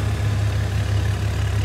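A Farmtrac 60 Supermaxx tractor engine idles with a steady, loud low rumble and an even throb, running alone with no voices.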